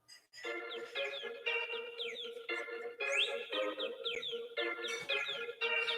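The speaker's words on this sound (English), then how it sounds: "See, this is my ringtone." An iPhone ringtone of synthetic chirping bird calls repeats in quick rhythmic bursts, clear and fairly close, with no voices over it.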